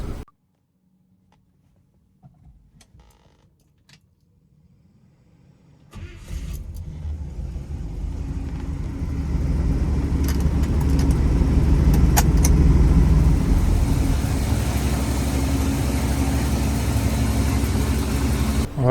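A 1966 Ford Mustang engine catches after a quiet lead-in and settles into a steady idle, its rumble swelling a little and staying loud and continuous to the end.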